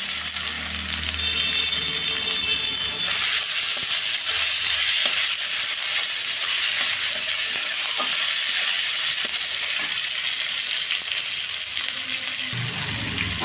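Asafoetida, tomato and salt sizzle in a hot pan, a steady broadband frying hiss that swells louder after the first few seconds and holds continuously, with occasional stirring scrapes and no talking.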